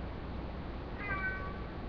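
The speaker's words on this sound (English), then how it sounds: "Oh, the cat won't stop." A house cat gives one short, faint meow indoors against a quiet background hum.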